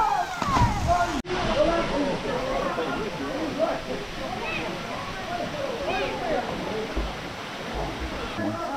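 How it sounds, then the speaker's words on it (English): Water sloshes and splashes around a swimmer in a river in central Portugal, a close, continuous watery churn with a burbling current running underneath, while voices chatter over it. "I'm swimming under that bridge."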